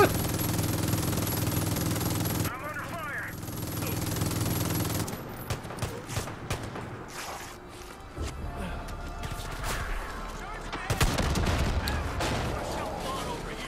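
Gunfire in Far Cry 5 crackles in dense bursts and scattered shots, with sharp crashes and mechanical clatter among game ambience, continuing through the stretch at moderate loudness.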